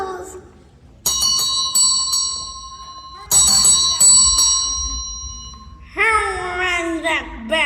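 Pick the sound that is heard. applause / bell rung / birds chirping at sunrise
bell rung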